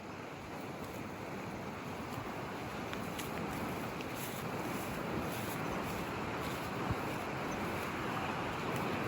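Broad steady rush of a flowing river in Jim Corbett National Park, a constant dense roar of water filling the scene without pause or speech.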